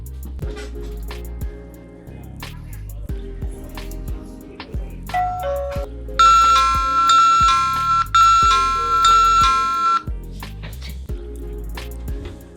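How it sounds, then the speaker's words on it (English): A Uniview wireless doorbell chime rings out loud and clear indoors after its call button is pressed, playing a bright multi-tone melody over a few seconds amid background household noise. "It's going to hopefully make this chime go off"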